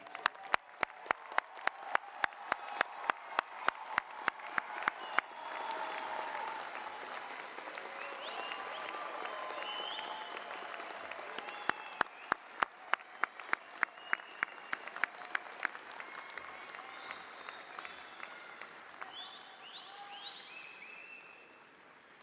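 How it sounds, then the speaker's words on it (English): Audience applause for engineering graduates at a university commencement ceremony, sharp individual claps at first swelling into sustained, moderately distant clapping that thins and fades near the end. "Let's give our graduates a round of applause once again."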